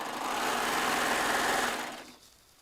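A Baby Lock Triumph serger stitches strips of leftover bolt-end fabric with a fast, dense mechanical whir that runs steadily for about two seconds and then winds down and stops.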